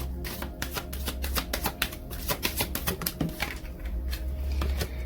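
Romance Angels oracle cards being shuffled by hand, a rapid steady patter of crisp card flicks and riffles, close and fairly quiet, with soft bird cooing faintly in the background.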